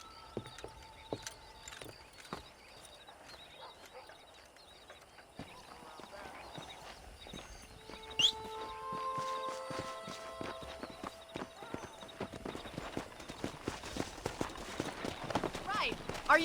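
Horse hooves clip-clop in the Red Dead Redemption video game while riding out to herd cattle, a quick rhythmic series of hoof strikes that grows louder midway, running under speech and game sounds.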